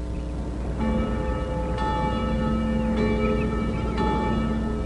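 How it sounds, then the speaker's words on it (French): Church bells ring out in slow, regular strokes about once per second, each one bright and sustained with a long ringing decay over steady background noise. "le petit-fils d'Emma, appelé Jimmy, entendit les cloches d'église sonner."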